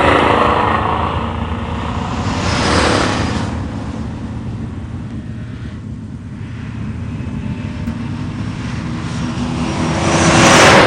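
A 429 Ram Air Ford Mustang Mach 1 roars down a drag strip in a factory showroom stock class, a loud, steady broadband engine drone that swells at the start and again at the end of the run.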